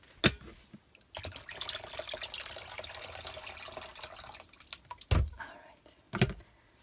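Water is poured into handmade paper pulp, giving a soft continuous trickle and splashing with a few louder sloshes near the end, quiet and close.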